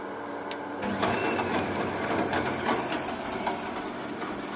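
A machine crushing garlic heads into separate cloves gives a steady, dense mechanical clatter and whir. It starts abruptly after a brief quiet moment and runs continuously at moderate loudness, with no talking.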